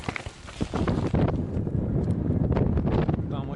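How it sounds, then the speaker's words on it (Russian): Strong wind buffeting a tent on the shore of a lake during a fishing trip, a loud continuous roar with gusty flapping and rattling across the whole clip, close to the microphone. "А вот такой ветер у нас здесь."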